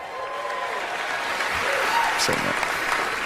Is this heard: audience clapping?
yes